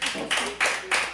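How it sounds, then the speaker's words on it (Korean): Brief bursts of congregational clapping at a church revival meeting, four short waves of hands in quick succession, fairly close and moderately loud. "박수 한번 쳐줘요."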